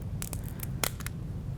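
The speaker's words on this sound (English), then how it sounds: "we're going to use scissors" Scissors snip through the hard exoskeleton of a yabby during a dissection, several short crisp cuts in quick succession, close and clear over a quiet background.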